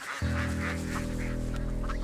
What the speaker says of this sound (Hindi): बत्तख को पकड़ो।